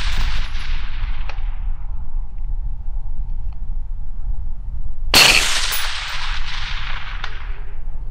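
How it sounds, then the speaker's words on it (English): A single sharp rifle report fired at a target 500 yards away cracks loudly, then rolls and echoes away over a few seconds against a steady outdoor background rumble. "There's 500 yard shots with a thermal."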